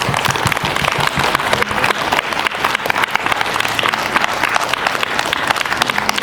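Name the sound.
applause for students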